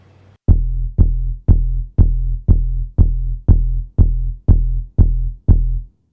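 Ten evenly spaced kick drum hits from a sample, shaped with EQ and a transient shaper, each a punchy, thumpy low boom with a sharp attack and short ring, repeating at a steady tempo.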